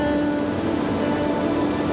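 A Yosemite waterfall plunging some 2,500 feet onto rock, heard as a steady, full roar of rushing, crashing water without pause or voices.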